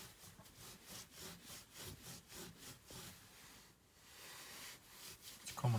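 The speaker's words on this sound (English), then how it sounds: "with the same wet cloth, go ahead and scrub the stitching on the inside." A wet cloth scrubbing the stitching on a car steering wheel, a Renault Megane, during an interior valet: steady rhythmic back-and-forth rubbing strokes, close and fairly loud, with no talk.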